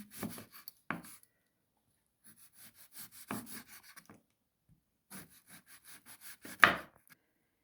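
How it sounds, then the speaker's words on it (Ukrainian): A knife cuts a pear into thin, random pieces for a fruit pie filling, giving short separate rasping strokes in small bursts with pauses between them, close and fairly quiet. "Отак довільними шматочками, тоненько, нарізую грушу."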